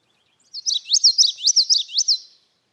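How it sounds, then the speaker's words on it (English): A common yellowthroat sings a clear, rapid phrase of repeated high warbling notes, lasting under two seconds, close and alone against silence. "the song of the common yellowthroat sounds like this."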